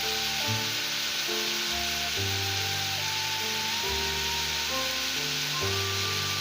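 Potatoes and green beans frying golden in a pan, producing a loud, continuous sizzle that stays even throughout, with a steady tonal hum running beneath it.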